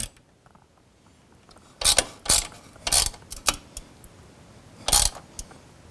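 A button head cap screw being tightened into a Can Am Spyder F3 floorboard, a series of short ratcheting clicks in uneven bursts, close and otherwise quiet.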